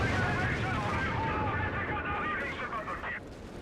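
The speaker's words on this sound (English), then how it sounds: "So, strafing run and fragmentation bomb came on in from 2 different angles." In Company of Heroes 3, a fragmentation bomb and a strafing run hit from two directions, producing a dense, rumbling wash of explosions and gunfire that fades toward the end as a commentator talks over it.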